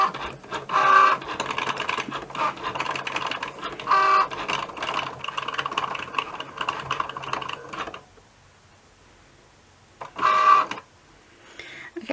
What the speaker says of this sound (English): it will start cutting it for you